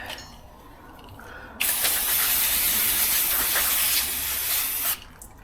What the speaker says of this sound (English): Give it a little spray on the outside